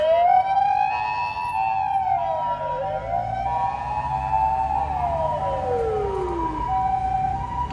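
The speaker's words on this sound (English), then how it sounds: "Oh, it's an ambulance." An ambulance siren passes along a street at night near Asakusa in Tokyo, its loud wailing tone rising and falling in repeated sweeps over a low traffic rumble, close at first and then shifting.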